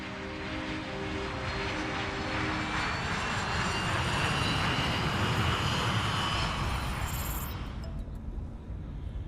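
A passenger flight from Hyderabad to Vizag drones with a loud, steady airplane engine roar that holds throughout and thins out slightly near the end, with no talking.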